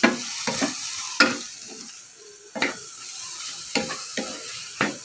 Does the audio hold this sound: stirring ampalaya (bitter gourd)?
yes